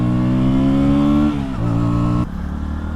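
KTM Duke 160 motorcycle engine revving hard on the throttle, a loud, close, high-pitched whine that dips briefly as revs change, then drops to a lower drone.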